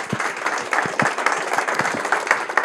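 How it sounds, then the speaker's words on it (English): Conference audience applauding a presenter, a steady crowd-wide clapping that stays even and fairly loud throughout, with no voices standing out. "A round of applause for Jason."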